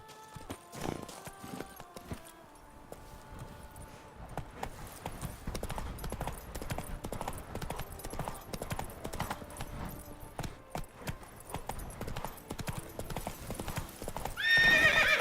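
Roach, the horse in The Witcher 3, trots with steady, close clip-clopping hooves that run without a break, now and then mixed with a whinny and game ambience.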